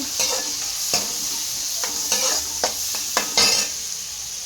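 Cumin seeds and asafoetida frying in hot oil for a fenugreek-leaf and green pea gravy, with steady close sizzling broken by repeated sharp bursts of crackle and stirring scrapes, no voices.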